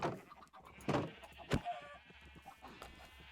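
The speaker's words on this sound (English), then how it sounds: "There's a lot of sheep in here." Sheep bleat in the Minecraft 1.17 survival game, several short, separate bleats spaced across a few seconds and heard clearly without any talk.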